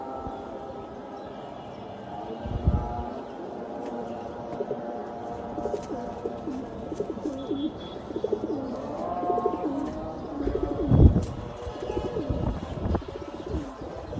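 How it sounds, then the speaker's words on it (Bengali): A black male racing pigeon coos in repeated low, throaty phrases through most of the stretch, with a few sharp knocks and scuffles standing out over a steady background hum. "একটা কালো গোলা কবুতর।"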